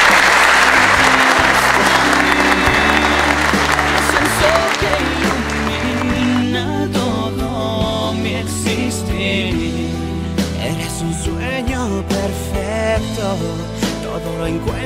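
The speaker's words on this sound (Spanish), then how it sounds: "Felicitémosles, dándoles un fuerte aplauso." Guests at a church wedding give the newlyweds a loud round of applause that fades over the first seconds as music begins playing underneath and carries on.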